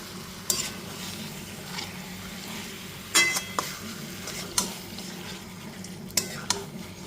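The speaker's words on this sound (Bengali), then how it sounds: "ম্যারিনেট করা চিকেনের টুকরোগুলো দিয়ে দেওয়ার পর খুব ভালো মতো এবার মিশিয়ে নেব" Marinated chicken pieces are stirred in a pan over a low gas flame: a soft, continuous sizzle sits under scattered scrapes and clinks of a spatula against metal, with no voices.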